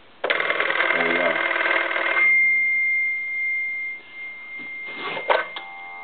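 A German telephone's bell rings loudly and continuously for about two seconds, then a steady tone hums on while faint handling clicks follow.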